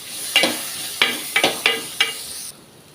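Grated coconut fries in coconut oil over a low flame with a soft, steady sizzle, broken by five sharp scraping stirs of a spoon against the pan, close and alone.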